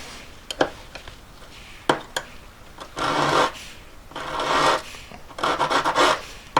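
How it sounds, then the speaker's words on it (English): Metal file rasping down solder on a jewellery joint, a few sharp scrapes and taps followed by three longer back-and-forth filing strokes, close and clear. "when you're filing down solder, try to only file the solder"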